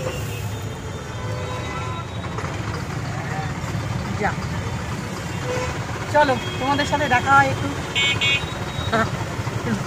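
Steady road noise from an electric rickshaw moving through town traffic, with someone talking over it and a few horn toots in the background.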